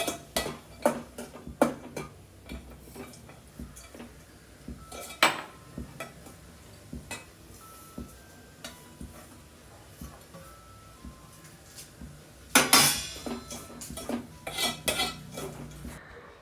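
A spoon clinks and scrapes against a pot while cooked chana dal is stirred with jaggery in a home kitchen, with irregular close metallic knocks, some louder bursts of rapid scraping midway, and no talk.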